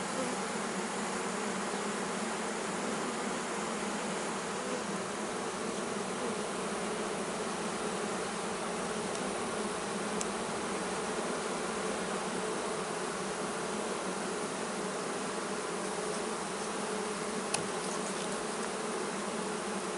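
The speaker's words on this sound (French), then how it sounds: "Toi, tu as des abeilles sur le côté." Honeybees buzz steadily and densely around a hive while it is being transferred, a continuous close swarm drone with no talking.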